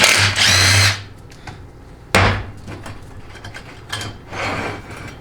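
A socket ratchet works the 8 mm speed sensor bolt on a 4L60E transmission: a loud burst of rapid clicking, a second sharp burst, then quieter intermittent ratcheting, all close with no talk.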